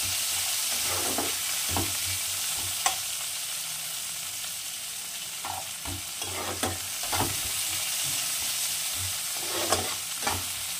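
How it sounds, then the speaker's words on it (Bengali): Chopped onion stirred and fried in hot oil for a small-fish curry, a steady sizzle with repeated scraping stirs of a spoon against the pan at irregular intervals, close and alone. "পেঁয়াজটা দিয়ে কিন্তু একটু ভালো করে নেড়ে চেড়ে লাল লাল করে ভেজে নিতে হবে।"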